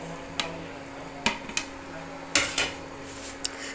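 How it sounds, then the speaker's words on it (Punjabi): A ladle scrapes and knocks against a cooking pot of mango chutney with raisins, coconut and fennel seeds, giving a few sharp metallic clinks spaced irregularly over a low steady background hum, with no talking. "ਆਪਾਂ ਕੜਸੀ ਲਗਾਤਾਰ ਚਲਾਉਂਦੇ ਰਹਿਣਾ ਇਹਦੇ 'ਚ"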